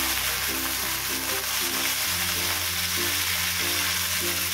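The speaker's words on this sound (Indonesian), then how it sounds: "ditumis kembali sampai tercampur merata." Tofu and bean sprouts are stir-fried in a pan, producing a loud, steady sizzle with continuous frying crackle and occasional scraping and stirring, and no talking over it.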